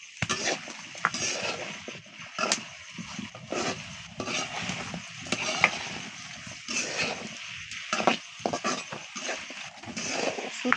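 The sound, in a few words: sautéing greens, potato and beans in a pan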